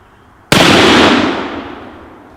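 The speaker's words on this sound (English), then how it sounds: "I am going to shoot at that iron skillet down there" A single loud, close shot from an antique gun fired at an iron skillet target outdoors, a sharp blast followed by a long fading rumble.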